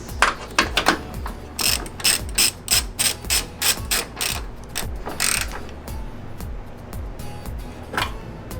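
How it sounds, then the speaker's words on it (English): A hand ratchet tightens coilover bolts on an NA Miata, its pawl clicking in quick, rhythmic bursts of strokes, close and loud, then easing into a few slower clicks. "we're gonna be tightening up everything with a ratchet."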